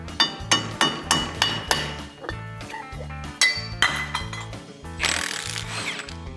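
Tools clink and tap on metal while a cover is removed from the wheel hub of a 2003 Duramax, a series of sharp near metallic knocks and rattles followed by a brief rushing burst near the end.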